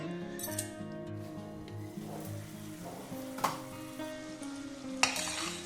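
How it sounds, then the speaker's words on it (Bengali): A spiced masala with yogurt sizzles in oil in a pan for a paneer dish over low heat, with a constant frying hiss, occasional spoon clinks and scrapes, and soft melodic music underneath. "দই দেওয়ার পরে অনেক সময় দইটা ফেটে যায় সেই জন্য গ্যাসটা স্লো রাখতে হবে আবার এটা একটু কষে নিতে হবে যতক্ষণ না তেল ছাড়ছে"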